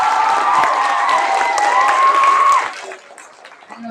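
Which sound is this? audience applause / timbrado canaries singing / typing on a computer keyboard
audience applause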